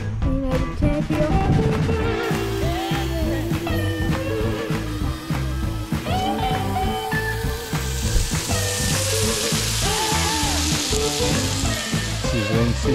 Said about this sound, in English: Sizzling, sizzling.